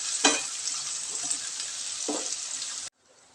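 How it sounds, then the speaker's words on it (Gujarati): Steady hissing sizzle of onions frying in a pan over a medium gas flame for a green onion dish, with a couple of soft stirring scrapes, then it cuts off abruptly. "હવે આપણે તેને મીડિયમ ગેસ ઉપર તળવા દેવાના છે"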